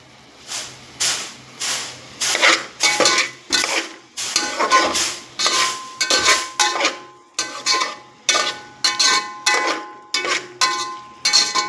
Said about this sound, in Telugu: తరువాత మనం పుదీనా అల్లం వెల్లుల్లి పేస్ట్ వేసుకొని బాగా వేయించుకుంటాను